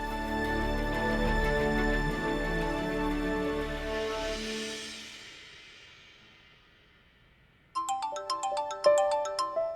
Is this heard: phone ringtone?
yes